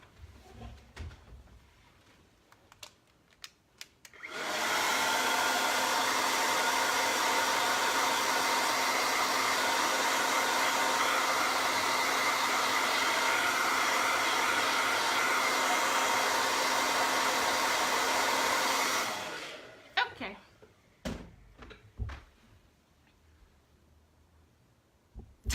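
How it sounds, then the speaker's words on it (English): A loud blow dryer runs steadily for about fifteen seconds, drying a freshly made chalk transfer, with quieter handling noises before and after. "my blow dryer is really loud"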